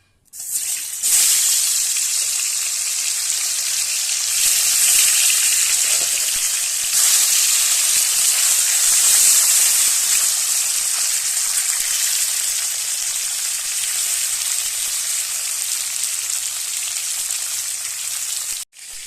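A steady, loud hiss and crackle of tilapia frying in hot oil, close by and continuous, with no talking.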